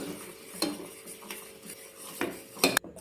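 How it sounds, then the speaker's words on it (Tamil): A spoon scrapes and clinks against a pot while stirring a mango ice cream base thickened with rice flour into a creamy consistency, with a few sharp metallic taps over a low bubbling background. "நல்லா க்ரீமியான கண்டன்சன்சிக்கு வர வரைக்கும் நம்ம கை விடாமல் கிளறிக்கிட்டே இருக்கணும்"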